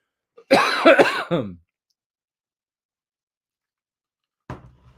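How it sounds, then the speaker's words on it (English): A single hoarse cough burst, close and fairly loud, followed by silence and a short faint noise at the end. "you'll have to pardon my cough"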